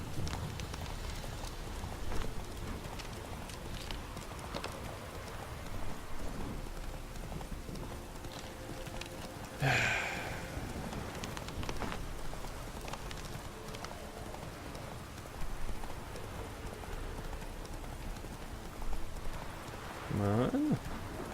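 Horse hooves clop steadily while riding in The Witcher 3, fairly quiet under a broad wash of ambient game sound, with brief louder bursts now and then.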